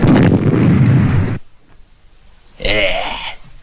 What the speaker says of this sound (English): I'm a skilled hand at the muffled explosion